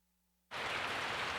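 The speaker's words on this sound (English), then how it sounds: "I woke up to the sound of falling rain." Rain in the video game Resident Evil 3 begins abruptly after a brief near-silence with a low hum, then pours as a steady, full hiss of falling rain, close and even.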